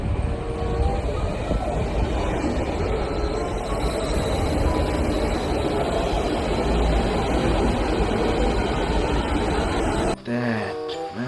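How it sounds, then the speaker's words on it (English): A bullet train rushes past close by as a loud, continuous roaring rumble for about ten seconds, then cuts off abruptly, with a voice briefly audible at the end. "Wow, bullet train."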